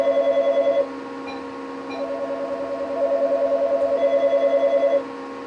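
Touch-tone telephone keypad being dialed to place a call, a steady series of evenly spaced DTMF tone beeps with a short pause between two runs, clear and close with no talking.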